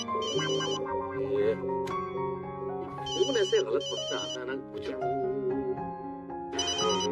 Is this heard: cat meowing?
no